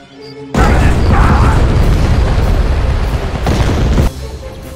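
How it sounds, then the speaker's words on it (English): Heavy bombardment in the Star Wars strategy game Thrawn's Revenge: a loud, sustained roar of booming explosions and blasts that starts abruptly, rumbles on for several seconds, then eases to a lower din. "Bombardment incoming."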